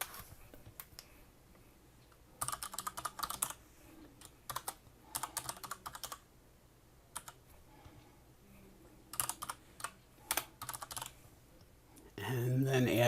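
Password keys tapped on a computer keyboard during a Dropbox sign-in on Ubuntu 17.10, heard as several quick bursts of clicky keystrokes with pauses between them, fairly close, and a louder noise at the end.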